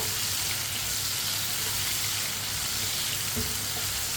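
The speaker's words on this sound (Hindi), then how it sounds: "टमाटर को 2-3 मिनट के लिए पका लेते हैं।" Tomatoes fry over medium heat in a pan for a white chana curry, giving a dense, steady sizzle and crackle close by with faint stirring sounds and no speech.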